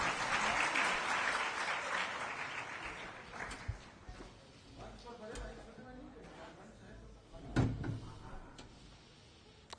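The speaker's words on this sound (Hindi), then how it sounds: "माननीय मंत्री जी का ताली का गड़गड़ाहट से स्वागत है।" A crowd at a Christian community gathering with a Bihar state minister as chief guest breaks into applause of welcome, loud at first and fading within a few seconds, while someone talks throughout and a few thuds sound.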